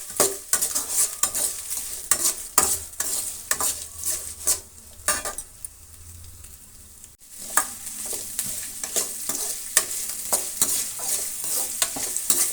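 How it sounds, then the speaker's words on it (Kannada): Byadagi chillies and curry leaves sizzle steadily in a hot pan while a spatula stirs and scrapes in repeated sharp strokes, close and loud, with a short quieter pause midway. "ಇಷ್ಟೂ ನಾವು ಫ್ರೈ ಮಾಡ್ಕೊಳ್ಳೋಣ."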